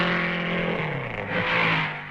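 1950s Formula 1 race cars at Spa cresting the summit of the Raidillon, a loud, steady engine drone with a pitch that shifts as a car passes close by, no voices.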